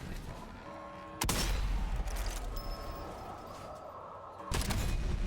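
Gunfire in a zombie shooter video game: a sharp, loud shot bursts in and rings on during a slow-motion bullet cam, then a second heavy blast hits near the end, with a low rumbling tail in between.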